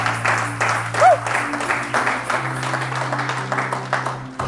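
Congregation applauding the Lord during a church service, a steady wash of clapping filling the room over a low sustained hum, with scattered voices mixed in.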